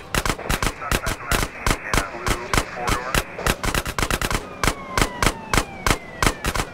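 Rapid bursts of gunshots from the video game GTA San Andreas, crisp evenly spaced shots at close range, some in quick clusters, with faint talk underneath.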